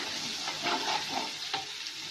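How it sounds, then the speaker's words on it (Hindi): Green chilies fry in a hot pan for an aloo methi dish, a steady close sizzle with a few soft stirring scrapes and no voices. "साथ ही डालूंगी ये हरी मिर्चें। एक से 2 मिनट तक भूनूंगी इसको।"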